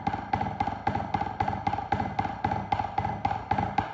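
Drumstick buzz strokes played as steady eighth notes on a drum head, a rapid even series of short buzzy rolls with a ringing tone, moderately quiet and alone.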